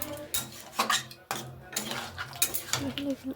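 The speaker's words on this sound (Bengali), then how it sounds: "দিয়ে এটাকে আমি এবার একটুখানির জন্য নাড়াচাড়া করবো।" A utensil knocks and scrapes against a pan as water mixed with ground cumin paste is stirred for a light fish curry with potatoes and vegetable stems. The irregular metallic clinks and scrapes are close and moderately loud, with no talking.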